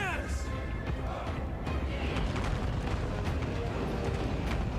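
Firework cannon artillery fires in a Total War: Warhammer 3 battle, dense booms and crackling bursts layered over a loud, constant battlefield din, with voices talking over it.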